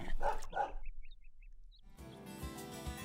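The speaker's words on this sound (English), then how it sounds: "With the dog jumping and growling below her" A dog barking in a children's read-aloud story, a couple of sharp close barks at the start, then brief bird-like chirps and a burst of busy noise.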